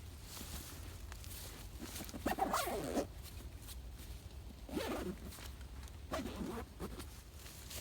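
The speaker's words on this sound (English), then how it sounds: "zip it up, and then head on my way." Zipping up a Helikon BailOut Bag backpack: several short, raspy zipper pulls in separate bursts close to the mic, with faint handling rustle in between.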